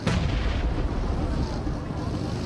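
A grenade blast in the PUBG Mobile battle royale game, a loud broadband boom at the start with a rumbling, crackling tail that fills the rest of the moment, no voices over it.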